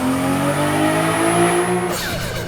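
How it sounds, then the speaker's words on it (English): A car's turbo spools up in Forza Horizon 5, a rising whine over a steady engine drone that ends with a sudden hissing release near the end. "imagine if instead of this, the turbo sounded like this."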